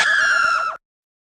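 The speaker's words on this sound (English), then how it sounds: "Redeads and Gyptos are known as the zombie-alike undead enemies that will petrify you with their screams" A ReDead from The Legend of Zelda lets out a shrill, piercing scream, loud and close, held for under a second before cutting off abruptly into silence.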